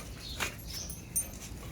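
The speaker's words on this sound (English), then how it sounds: "And the puppies squeaking, noises like that, saying, hey, you scared me or you did it too much." Puppies give two quick, faint, high squeaks, spaced apart and fairly distant, against a soft steady background with no talking.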